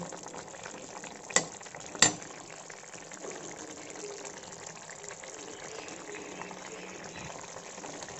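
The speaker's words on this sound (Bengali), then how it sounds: "এবার গ্যাসে স্টিমটা একটু মিডিয়াম করে দিয়ে আর একটু ফুটিয়ে নেব ভালো করে" Tangra fish curry with potatoes boiling on a gas stove over medium heat, a steady close bubbling simmer with two sharp clinks early on.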